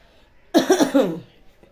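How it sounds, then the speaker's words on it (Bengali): A short burst of three or four quick coughs, close and fairly loud, in an otherwise quiet room. "কাশি হচ্ছে বন্ধুরা"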